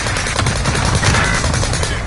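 Video game gunfire: a dense, continuous rattle of rapid shots and bursts, loud and close, with no pauses across the short stretch.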